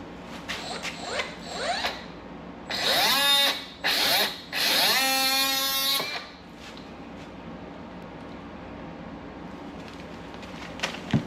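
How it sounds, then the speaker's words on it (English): Power tool cutting the end off a Toyota 4Runner TRD Pro front bumper, with several loud, close, whining bursts of a few seconds each separated by short pauses, then quieter handling noise. "So I'm gonna go ahead and cut the end of it off here."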